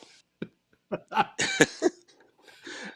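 A few short, sharp coughs and throat sounds come in quick bursts, close to the microphone, separated by brief pauses.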